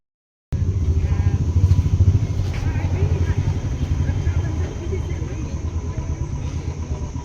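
A motorcycle engine starts up abruptly and runs loud and close with a steady throbbing rumble, a voice talking faintly beneath it.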